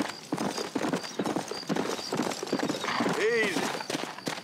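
Horse hooves clip-clop at a steady walk in Red Dead Redemption, and a horse gives a short whinny. A person talks over the sounds.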